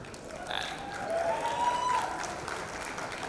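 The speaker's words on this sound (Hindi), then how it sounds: "एक बार जोरदार तालियां हो जाएं for the entire team of First Copy" Applause from an audience at a show announcement event rises into a moderate, sustained round of clapping that swells midway and then eases, with some voices underneath.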